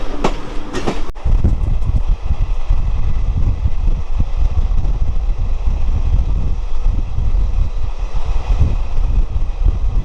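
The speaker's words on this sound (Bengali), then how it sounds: "আমরা আর একটা কিন্তু শিয়ালদা লোকাল ওভারটেক করছি জাস্ট এই দেখুন" The Bhagirathi Express runs loud and close as it overtakes a Sealdah local train near Dum Dum Junction, with a steady rumble and rattle of rail wheels, wind buffeting and a sharp clatter at the start.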